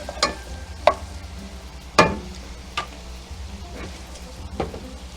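A spoon stirs and breaks up broccoli in a pot for cream of broccoli soup, giving a few sharp scraping knocks over a low sizzle, with no talking.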